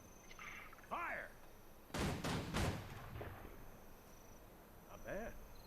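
A volley of gunfire rings out in the game Guild Wars 2, a dense burst of rapid cracking shots around a mid-range distance, with brief chirping effects before and after.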